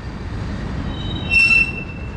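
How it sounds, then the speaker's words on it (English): A train passes with a high, piercing wheel squeal rising over a steady low rumble, loud and close, with no talking. "as soon as I drove away, the train came"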